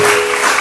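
Church congregation applauding during a sermon on the resurrection, a brief dense burst of clapping, loud and close, with no talk over it.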